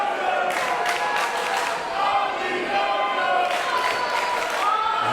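An arena crowd at a wrestling match roars and cheers as one steady, dense wash of noise, rising and falling slightly, with a few shouts breaking through.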